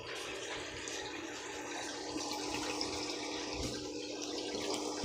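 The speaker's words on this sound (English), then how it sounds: "here's the fish tank, and it's got 2 aerators" Aquaponics fish tank fitted with two aerators, giving a steady, moderately quiet wash of bubbling and gurgling water that continues evenly throughout, with no talking.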